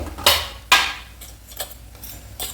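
A utensil scrapes and clinks sharply against a pan while sesame powder is stirred into a dried fish curry, several separate strikes at uneven intervals, close and clear.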